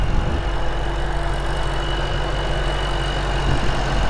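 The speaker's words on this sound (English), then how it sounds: "I can hear the blower at idle, so it's definitely not quiet." A supercharged 2010 Ford Mustang Shelby GT500 engine idles with a steady, low, throaty rumble and a faint high supercharger whine running through it, close and continuous.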